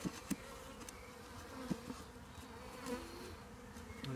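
Honey bees buzz steadily around an Apidea mini hive, a dense insect drone with a few louder passes close by and no speech.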